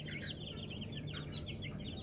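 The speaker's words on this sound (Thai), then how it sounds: "นี่ครับ ลูกไก่แข็งแรงครับ" Domestic chicks and turkey poults in a brooder kept without a heat lamp peep constantly, many high, overlapping chirps forming a busy, steady chorus close by.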